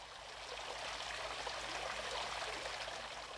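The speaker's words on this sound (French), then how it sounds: "les oueds du désert se remplissent et ressemblent pour quelque temps à des rivières intarissables." Meltwater fills a desert wadi and runs as a flowing stream, a soft continuous trickling and gurgling rush, quiet and steady, with no voices.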